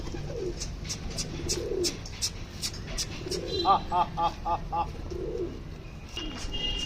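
Inside a coop of fancy goley and wild pigeons, low coos rise and fall in several rounds, with a quick run of sharp clicks midway and a man's calls now and then.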